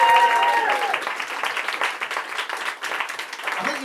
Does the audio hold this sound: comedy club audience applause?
yes